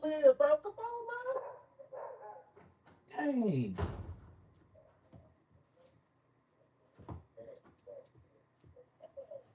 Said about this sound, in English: You gotta be making all that noise, puppy.